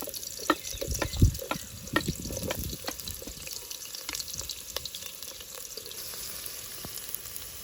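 Onion slices frying and sizzling in a hot pan while cooking a dry prawn curry with sesame, a steady crackling sizzle with a few sharper pops and stirring clatters near the start, settling to a softer continuous fry.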